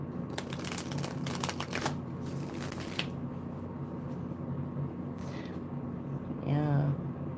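Tarot cards are riffled by hand in quick fluttering bursts through the first three seconds, followed by quieter card handling and a brief voiced sound near the end.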